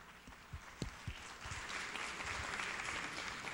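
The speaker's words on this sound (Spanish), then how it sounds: "Vamos a recibirlos con un fuerte aplauso." Applause from a crowd, steady clapping that builds into a dense, continuous wash of sound.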